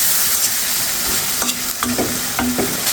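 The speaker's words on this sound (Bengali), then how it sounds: "এর ভিতরে এখন আমি টমেটোটা দিয়ে দিচ্ছি। টমেটোটা দিয়েও কষিয়ে নেব।" Tomato stirred into a pan of fried potato, beans and stems, with a steady sizzle and several scraping spatula strokes, close and clear, without talk.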